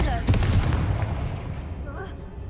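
A spell-cast explosion in a fantasy video game bursts loudly at the start, with a sharp boom and rumbling decay that fades away over a couple of seconds.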